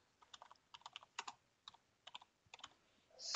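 Keystrokes on a computer keyboard, a quiet run of quick, uneven taps in short bursts, ending in a rising burst of noise.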